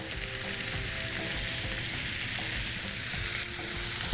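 Jackfruit vegetable sautés in a hot pan, a dense, continuous close sizzle with a light crackle and soft stirring throughout, no voices.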